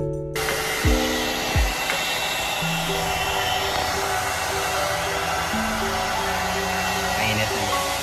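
A two-in-one hair styler and dryer brush blows hot air with a steady, even whoosh that runs the whole time, while a voice speaks briefly at the start and near the end.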